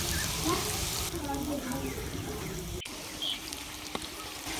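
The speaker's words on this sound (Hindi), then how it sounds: "और इसी तरह से दूसरे पीस को भी फ्राई कर लेंगे।" Cauliflower pieces frying in hot oil in a pan, producing a steady broadband sizzle that continues throughout, with a brief clatter partway through, close and fairly even in level.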